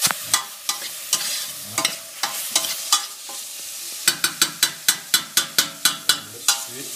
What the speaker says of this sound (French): Je vais rajouter mes dés de volaille, pareil, que je vais faire suer aussi.